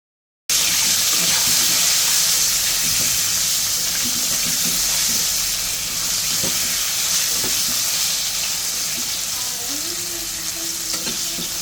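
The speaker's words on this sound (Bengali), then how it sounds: "এখন সময় নিয়ে আলুগুলোকে ভালোভাবে ভেজে নেব" Potato chunks fry steadily in hot oil with turmeric and salt, a continuous close sizzle and hiss with occasional stirring scrapes and soft clinks throughout.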